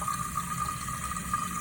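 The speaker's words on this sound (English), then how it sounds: "so the tank is filling up" Toilet tank refilling through a new FluidMaster 400 fill valve in a home bathroom, a steady hiss of rushing water with a faint high whistle running throughout, close and continuous.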